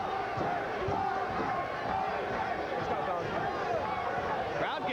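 Boxing arena crowd at a Pernell Whitaker bout, a steady dense roar of cheering and voices rising as the 12th round begins, continuous and fairly loud throughout.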